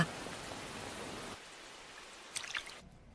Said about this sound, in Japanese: 雨やまないね